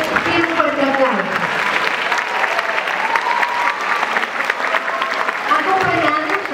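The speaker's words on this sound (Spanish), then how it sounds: "para los cuales quiero un fuerte aplauso" An audience at a theatre play gives a strong round of applause, thick continuous clapping with some voices and crowd murmur mixed in, loud and sustained throughout.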